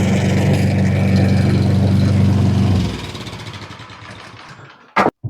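An MTD snowblower runs loudly for a few seconds, then the engine winds down and fades, and a sharp clank follows near the end.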